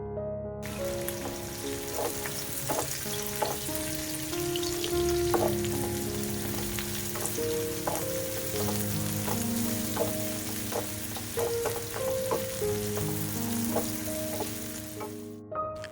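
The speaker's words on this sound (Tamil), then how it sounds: "ஒரு பேனில் 1 டேபிள் ஸ்பூன் எண்ணெய் சேர்த்துட்டு இதில் ஒரு பெரிய வெங்காயத்தை நீளமாக நறுக்கி சேர்த்துக்கலாம். சேர்த்துட்டு இதை நல்லா வதக்கிடுங்க." Long-sliced large onion frying in a tablespoon of oil in a pan gives a steady, close sizzle with crackles and the occasional stirring scrape, while background music plays.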